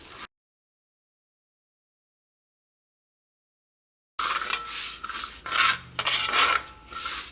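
Moong dal is stirred as it roasts in a pan for Onam payasam: a near scraping, rubbing rasp of a spoon against the dry lentils and the pan, heard in uneven strokes after a short stretch of silence.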